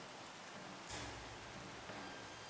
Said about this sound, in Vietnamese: Tự nhiên mưa như trút nước, ngập úng hết ruộng rồi.